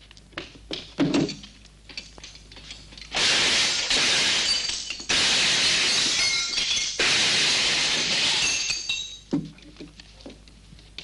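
Glass windows are smashed in several long crashing bursts, with shards clinking and tinkling between heavy thuds and taps, loud and close.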